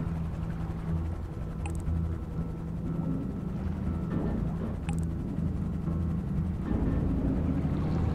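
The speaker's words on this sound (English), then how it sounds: "Can I please start the engine of this thing?" A submarine engine starts up in the video game GTA 5, a steady low mechanical hum and whir that drones on continuously, with faint higher clicks and tones over it.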